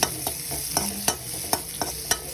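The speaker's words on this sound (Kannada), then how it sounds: "ಈರುಳ್ಳಿ ಒಂದು ಸ್ವಲ್ಪ ಫ್ರೈ ಮಾಡ್ಕೊಳ್ಳೋಣ" Onions sizzle in hot oil with a steady hiss while a spatula strikes and scrapes the pan in regular strokes, near and clear.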